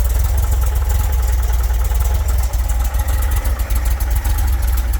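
Engine running at idle while warming up, a loose dry-sump unit being considered for a bus, giving a steady low rumble with faint clattering pulses, close and continuous.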